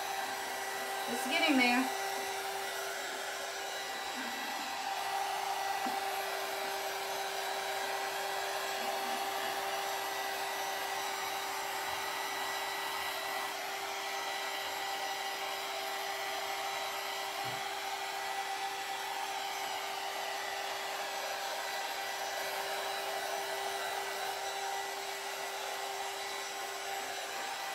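A hair dryer blows a steady, continuous whoosh close by while drying a decoupaged vanity during a makeover, running nearly unbroken throughout, with a brief spoken remark near the start.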